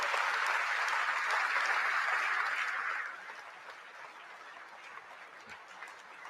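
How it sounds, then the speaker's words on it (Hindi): An audience at a ship commissioning ceremony in Kochi welcomes the Prime Minister with loud, dense applause for about three seconds, then it thins into fainter scattered clapping. "जोरदार, दमदार, जानदार तालियों के साथ स्वागत कीजिए भारत के प्रधानमंत्री श्री नरेंद्र मोदी।"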